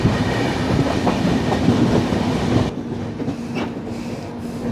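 The 12258 Garib Rath Express runs along the rails near Alappuzha, a steady close rumble of wheels and carriage noise that drops to a quieter, thinner roll partway through.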